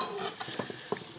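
Sweated onion dropped into a hot pan with a broad sizzle of frying, then a few distinct scrapes and taps of stirring against the pan, close and fairly quiet, with no talk.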